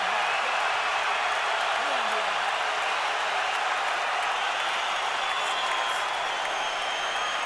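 Arena crowd at a Floyd Mayweather vs. Miguel Cotto boxing match roaring in a steady, dense wash of cheering throughout, held at an even level from start to finish.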